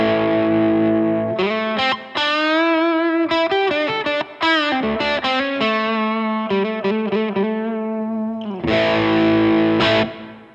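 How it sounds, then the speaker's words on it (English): Electric guitar through a Bluesbreaker overdrive pedal with the guitar volume rolled down, a mid-heavy, lightly driven tone playing phrases and chords with short breaks, close and steady, no voices. "what a Bluesbreaker does when you roll the guitar down is actually gives you a big honky mid-range."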